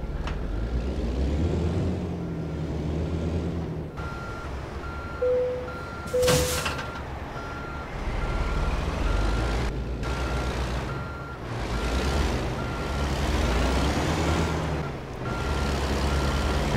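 Trucks reversing in a video game, their backup alarms repeating a steady, evenly spaced beep over a low engine rumble, with a brief hiss partway through and no talking.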